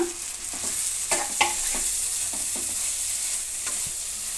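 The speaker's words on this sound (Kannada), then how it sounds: "ಕಾಯಿ ತುರಿ ಮತ್ತು ಬೆಳ್ಳುಳ್ಳಿ ಶುಂಠಿ ರುಬ್ಕೊಂಡಿರೋದನ್ನು ಪುಡಿ ಮಾಡ್ಕೊಂಡಿದ್ವಲ್ಲ ಅದನ್ನು ಹಾಕೋಣ ಹಾಕ್ಬಿಟ್ಟು ಕಲಸೋಣ" Tomato rice fries in a pan while a ground coconut, garlic and ginger paste is stirred in, a steady close sizzle punctuated by repeated scraping clinks of a spoon, no talking.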